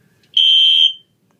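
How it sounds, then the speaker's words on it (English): A mocked-up fire alarm system in a home workshop sounding on test: a single loud, piercing electronic tone held for about half a second, then cut off, with near silence before and after. "along with this mocked up fire alarm system. It does work. We'll hit the test button here."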